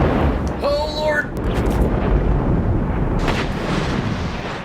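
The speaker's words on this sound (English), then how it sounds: "Oh, that was not as bad of an explosion" A video game explosion sounds as one heavy deep boom that rumbles and fades over a few seconds, with a quick whoosh at the start and a few later thumps, loud and close.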